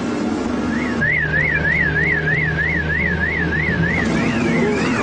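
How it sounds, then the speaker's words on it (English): A car alarm wails with a rapid rising-and-falling electronic siren, loud and close, over a low rumble of engine noise. "Alarm's going off."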